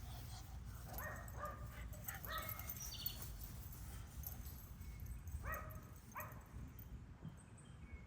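Neighbourhood dogs bark and yip at a distance outdoors, a few short bursts of two or three barks each, faint over a steady low background rumble.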